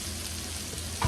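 Salmon fillet frying in a hot pan during a farm-fresh home dinner, giving a soft steady sizzle with a brief louder clatter near the end.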